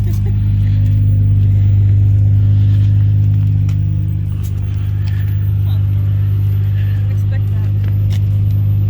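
A Nissan Skyline GT-R R32 on a first test drive gives a loud, constant low engine drone from inside the cabin, steady for the whole stretch with faint voices beneath it.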